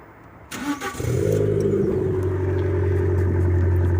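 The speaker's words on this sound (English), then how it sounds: "how about I start up the car and show you, because I think there's a bit more noise to this car now" Abarth car engine starting with a new aftermarket exhaust: a short starter crank, then the engine catches with a rev and settles into a loud, deep, burbling idle close by, with no talking.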